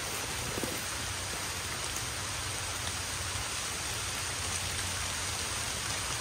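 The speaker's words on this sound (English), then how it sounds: "it is raining" Steady rain falls at a duck pond, a continuous even hiss of drops on water and surfaces, close and moderately loud throughout with no voices.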